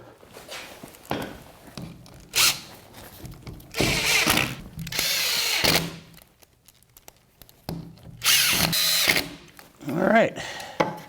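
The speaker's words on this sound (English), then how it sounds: "I've got two more screws to put in at the top here." Cordless power drill driving screws into a door frame while hanging a door with sidelites, several short separate bursts of whirring spaced a second or two apart, fairly close, with quiet pauses and faint handling noise between them.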